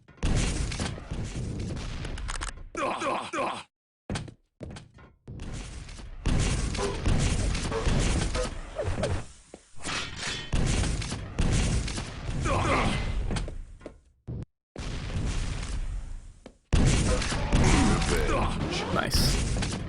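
Rocket launcher fire and explosions in a Quake Live match, a busy run of thumping blasts and impacts broken by brief gaps, with a commentator talking over much of it.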